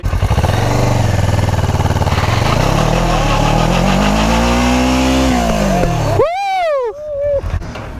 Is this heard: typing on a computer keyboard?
no